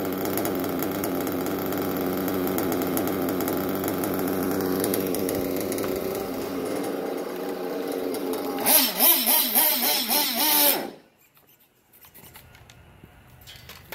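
A small chainsaw engine idles steadily for about ten seconds, a loud, continuous buzzing putter close by with no talk over it, briefly revving rougher near the end before cutting off into near silence.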